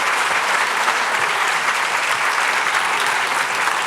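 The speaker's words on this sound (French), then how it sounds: "avec Karine Michiels, qu'on peut applaudir, s'il vous plaît," An audience claps steadily and enthusiastically at a university academic year opening ceremony, a dense, even wash of applause that holds without pause throughout.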